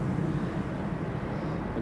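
An EasyJet airliner bound for Belfast roars steadily as it climbs away after takeoff, a broad continuous rumble heard outdoors in stormy weather at an airport, with no talk.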